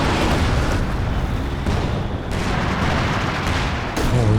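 A Panzer IV tank shell strikes a machine gun team in a Company of Heroes 2 battle, amid a dense, continuous roar of gunfire and explosions that stays loud for the whole stretch.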